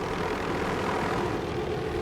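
A steady, rumbling helicopter engine drone passing overhead near a volcano crater fills the air, constant and moderately loud, with no other sounds.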